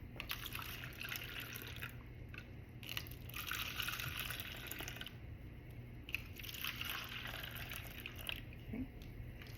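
Liquid is poured slowly into jars with a soft trickling, dripping flow, faint and close, running in uneven stretches with small clinks and pauses, no voices.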